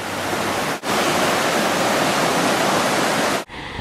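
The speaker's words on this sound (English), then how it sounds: "Swift water is very beautiful, but also very dangerous." Swift river water rushing in high spring flow, a steady loud broadband roar close by, broken by two brief cuts where the sound drops out.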